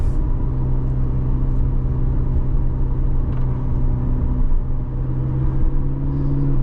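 A steady low engine rumble and road noise from inside a 2025 McLaren GTS cruising gently around town in automatic mode, constant and fairly loud with no speech.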